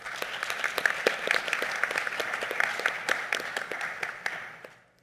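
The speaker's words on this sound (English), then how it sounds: "I'd like to give a round of applause to the government in its entirety" An audience applauds the Cayman Islands government at a mental health symposium, with steady, dense clapping from a crowd that carries on for several seconds before tapering off at the end.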